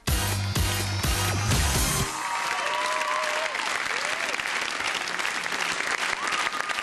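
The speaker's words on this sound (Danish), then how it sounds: "Klap lige af dem!" At a Danish TV talent show finale, a short burst of music cuts off and a studio audience breaks into loud, sustained applause, with whistles and cheers rising above the clapping.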